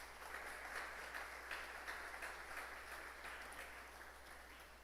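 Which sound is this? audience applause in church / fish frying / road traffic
audience applause in church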